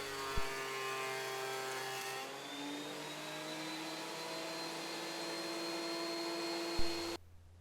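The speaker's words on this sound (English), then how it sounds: "I was able to run the blank through my planer to get it planed down to the final thickness" A power wood planer runs a board blank for an electric violin down to final thickness, a loud steady motorized roar with a rising cutting whine through the pass, then cuts off abruptly.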